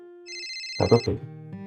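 A phone ringtone plays its melodic electronic tune, then a brief burst of talk cuts in partway through before a steady tone continues.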